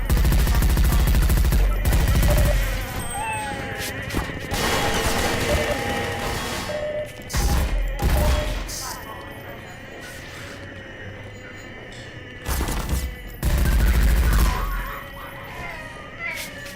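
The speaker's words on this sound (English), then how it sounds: "I maybe should use the SMG for the man hacks." Submachine gun fire in Half-Life 2, several loud bursts of rapid shots spaced through the stretch, with quieter game noise and clatter between them.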